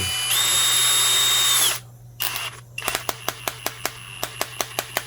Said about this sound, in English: since it doesn't have a sensor to tell that the motor is not turning, what it's doing is turning a little bit and then snapping back